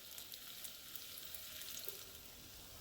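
Rice cakes sauteing in a pan, turned until golden brown on the outside, giving a faint, steady sizzle with soft hiss throughout and no talk.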